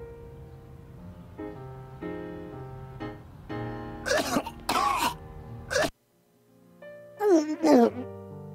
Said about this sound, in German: jetzt müssen wir warten, bis er hustet